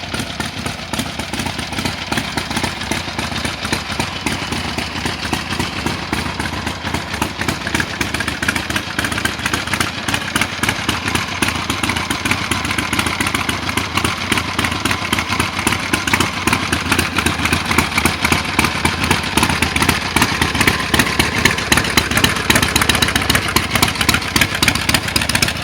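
Customized 1977 Harley-Davidson Sportster XLH idles steadily with a loud, close, lumpy rhythmic engine pulse throughout, rising slightly in volume toward the end, with no talking.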